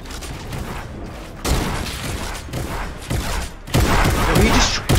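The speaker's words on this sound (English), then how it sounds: "Did he just take a shot at me" Gunfire in Fortnite Battle Royale, with bursts of loud shots and harsh impacts that come in several surges over dense game noise.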